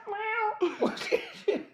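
A cat meows in a single clear, drawn-out tonal cry at close range, followed by a few short vocal bursts that sound like laughter or coughing.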